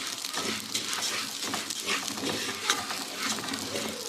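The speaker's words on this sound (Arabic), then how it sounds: "نقلب كل ده كده مع بعض لحد ما تاخد لون ذهبي" Vermicelli fries in a pan while being stirred toward golden, a bright, continuous sizzle broken by scraping stir strokes at an uneven rhythm, close and fairly loud.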